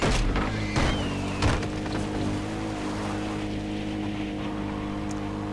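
A quad bike engine droning while driving in Far Cry 4, with a steady motor hum and a few sharp knocks early on, loud and continuous throughout.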